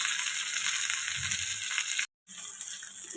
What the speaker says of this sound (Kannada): ಇದು 1-2 ನಿಮಿಷ ಚೆನ್ನಾಗಿ ಒಂದು ಕಡೆ ಫ್ರೈ ಆಗಿ